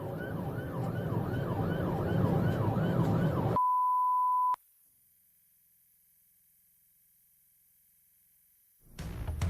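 Emergency vehicle sirens during a police chase wail in rapid, repeating up-and-down cycles for a few seconds, then cut abruptly to a steady electronic tone and near silence before noise returns.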